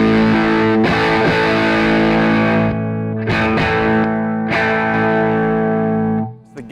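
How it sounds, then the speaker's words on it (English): Electric guitar played through an overdrive distortion pedal, thick sustained chords ringing with harmonic buzz, struck again every second or so, with brief choked gaps before a final chord fades out. "it's just a good overdrive distortion"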